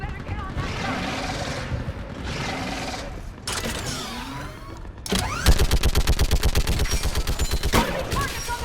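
A mounted gun fires in rapid, evenly spaced bursts during a sci-fi battle in Mass Effect 3, loud and near. Earlier shots and blasts crackle through the noisy combat, and voices can be heard.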